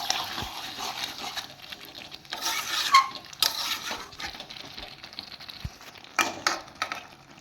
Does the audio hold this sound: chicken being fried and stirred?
yes